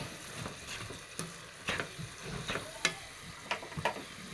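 Flattened rice (aval) mixed with banana and coconut is stirred in a bowl, producing a close series of soft rhythmic scrapes and clicks with short rustling bursts.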